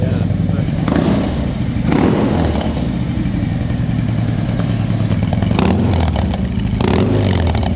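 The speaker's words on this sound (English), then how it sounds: "The motor is just running." A cammed 117-inch CVO bagger motorcycle engine runs steadily, loud and close, with a constant rumbling drone and occasional mechanical thumps and clatter.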